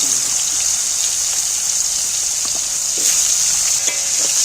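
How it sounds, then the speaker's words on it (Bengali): Moringa drumstick stalks frying in hot oil, giving a loud, steady hiss of sizzling that runs continuously and close, with faint stirring knocks underneath. "তেলের মধ্যে একটু নাড়াচাড়া করে ভেজে নিচ্ছি"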